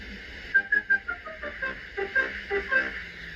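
A series of short, high whistle toots in quick succession, a bright piping tone repeated several times, moderately loud with a faint background hum.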